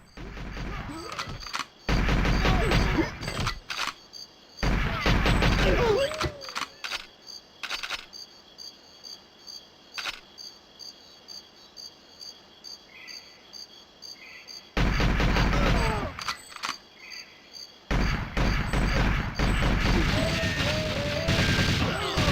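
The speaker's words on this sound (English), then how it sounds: "Some explosions as well." Explosions burst in the video game GoldenEye 007, loud booming blasts in several separate clusters with crackling tails and quieter gaps of faint game ambience between them.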